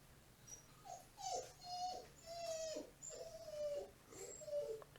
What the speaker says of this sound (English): Can you guys hear my dog? Like, she's something else.